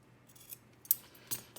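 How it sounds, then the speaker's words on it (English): Scissors cut through a thick piece of lace with three or four crisp snipping clicks spaced unevenly, close and fairly quiet against a low steady hum. "I'm just going to run the scissors down through there and cut that thick piece off"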